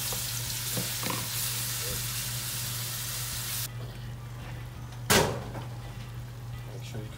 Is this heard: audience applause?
no